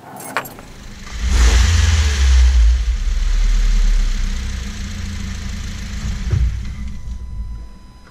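A car engine idles steadily during a coolant air bleed, a low continuous rumble that swells loud after a brief quiet start and holds through to the end, with a few faint metallic clinks near the start.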